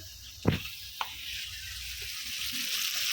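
Duck egg frying in a hot pan with spice paste, a soft steady sizzle running throughout with a sharp knock of the spatula near the start and a lighter tap shortly after.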